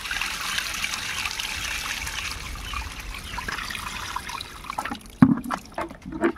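Water trickling and splashing as it drains from a village canal box fish trap, a continuous wash with a few sharper splashes near the end.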